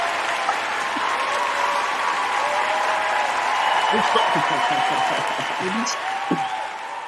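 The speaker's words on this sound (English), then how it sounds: "Let me give you a round of applause" Steady applause from a crowd fills the whole stretch, dense and continuous, with some voices and cheers faintly mixed in underneath.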